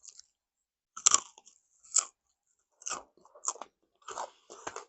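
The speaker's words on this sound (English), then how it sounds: "Listen to the crunch." Crunching on chips cooked on a wood burner stove, some of them a bit singed, heard as a series of close, loud crisp bites and chews in separate bursts with quiet gaps between.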